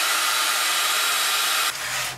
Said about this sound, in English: it'll blow away at the initial burst of the heat gun